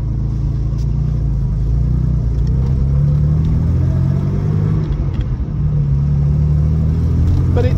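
A 1961 Jaguar MKII 2.4 with a manual gearbox accelerates, its engine a sustained, loud low drone and rumble that rises slightly in pitch as it pulls.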